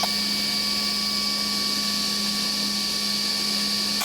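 A power saw rips a wooden spline to width, a loud, steady, high-pitched whine that holds at an even level with no pauses, heard up close and on its own.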